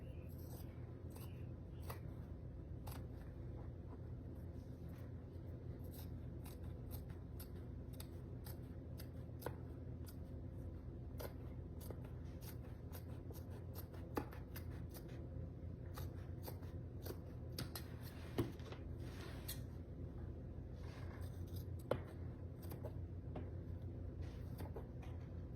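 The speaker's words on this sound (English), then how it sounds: "So you're gonna start cutting right there." Scissors snipping through fabric while a book centerpiece is cut, small crisp clicks and cuts scattered over a steady low rumble, with a few sharper snips standing out near the end.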